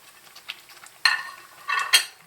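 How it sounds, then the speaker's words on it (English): Carrots go into a pot of boiling stew: a few faint clinks, then two louder bursts of splashing and sizzling as the pieces drop in and are stirred, close by and without talk. "at this point, that's when you add your carrots in."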